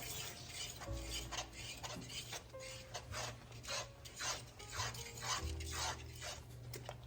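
Seasonings, vinegar and pepper flakes being mixed in a bowl for maple glazed chicken, a run of close scraping and rubbing strokes in a steady rhythm, no talk.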